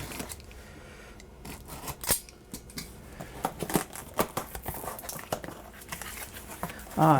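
Packing tape is cut on the shipping box of a Wancle sous vide immersion cooker. Scattered close snips and crisp scraping clicks sound over faint rustling, ending in a louder rattle of cardboard handling.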